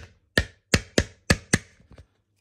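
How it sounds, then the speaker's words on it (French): A small mallet strikes a leather hole punch five times in a fairly quick rhythm, each blow a sharp, close knock, followed by a few faint softer taps. "Je me mets ça, petit maillet. Et là, en fait, ça perce, mais j'ai même pas besoin de forcer."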